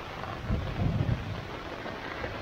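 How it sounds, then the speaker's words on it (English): Thunder rumbles low and close for a couple of seconds while steady rain patters on a Sierra Designs Full Moon 2 tent at a campsite in a thunderstorm. "And then it started raining."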